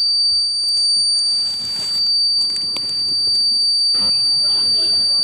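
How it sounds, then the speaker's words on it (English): Overflow alarm on a homemade water tank level indicator sounds as a steady, piercing high-pitched electronic tone held throughout, with some clattering noise beneath it. "Finally, just before overflowing, the alarm goes on with a multicolored light."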